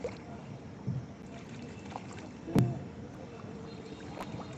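Oars dip and splash softly in water a few times as a fishing boat is rowed, with faint lapping and a gentle hiss of background ambience.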